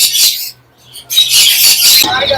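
Caged birds such as Java sparrows chirp and squawk at a busy bird market, bright high calls coming in close bursts with a brief lull midway.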